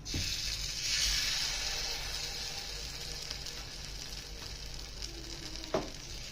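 Sweet red pumpkin appe batter sizzles as it is poured into a hot appe pan. A close, steady frying hiss swells at first, then settles, with a small metallic clink near the end.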